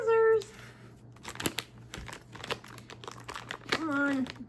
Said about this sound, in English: So I think I should use scissors at this point